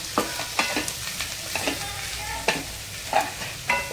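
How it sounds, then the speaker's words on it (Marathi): A potato vegetable filling for bread rolls being stirred in a hot pan, with a spatula scraping in a loose, repeated rhythm over a continuous sizzle. "तर आपण ही भाजी व्यवस्थित अशी मिक्स करून घेऊया"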